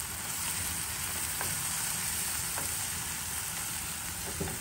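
Mushroom pancake filling sizzles and fries in a pan, a steady soft crackle with a few faint scrapes of stirring, heard alone without talk.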